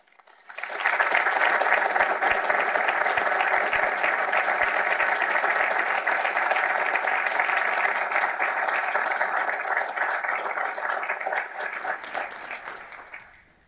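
Steady, full audience applause fills a conference room welcoming Senator Rubio to a discussion on Venezuela, rising quickly, holding evenly for about twelve seconds and then fading out.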